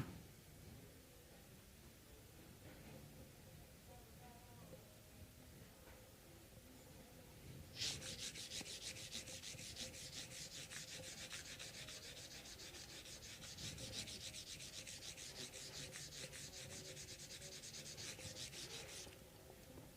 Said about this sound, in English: So this is the polishing. Technically, it's micro sanding.